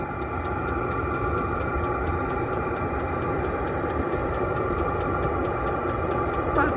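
A Chinese diesel tent heater running on high: a steady mechanical hum with a fast, regular ticking fuel-pump pulse throughout, at close range.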